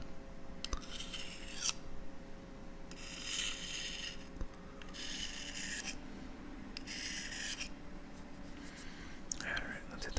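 Knife blade stroked along a leather strop, a series of soft rasping sweeps in slow, steady rhythm, close and quiet, with a voice murmuring lightly between strokes.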